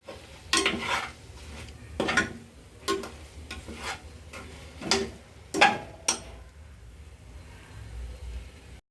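Onion and tomato being stirred in a pan for quail curry, a few separate spoon scrapes and knocks against the pan over a quiet, faint sizzle, with gaps between strokes.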